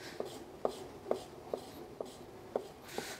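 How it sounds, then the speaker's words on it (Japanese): A knife slices raw squid into thin sashimi strips on a cutting board, with seven or so evenly spaced, crisp taps of the blade, quiet and close, and no talk over them. "イカを切るときにですね、こういう刃先を立てながらこう切ると薄く切れやすい"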